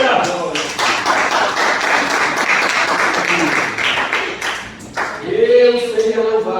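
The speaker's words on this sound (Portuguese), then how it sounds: "Pode sentar e nos louvar o Senhor com as palmas." A church congregation claps in praise, a dense, continuous patter of many hands lasting several seconds before fading as a voice speaks.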